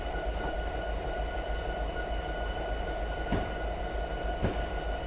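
Train running in Train Simulator 2019 while braking to a stop on an uphill grade: a steady low rumble of wheels and motors with faint tonal hums, plus two brief clanks over the continuous drone.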